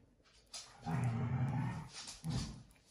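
Small dogs playfully romp indoors, giving close, loud rumbling growls with a yip, a long growl followed by a shorter one after a brief pause.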